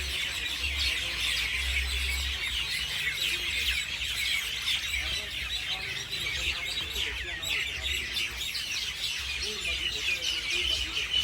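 A dense chorus of birds chirps continuously at dusk, high and busy, with a low steady hum beneath it and no voices.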